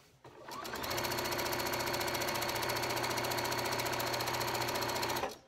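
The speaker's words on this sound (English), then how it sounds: "now I'm going to sew this line" A sewing machine stitches a quilt seam in one continuous fast run that lasts about five seconds. The rapid mechanical whir is close and steady, with a brief start-up and a clean stop and no voices.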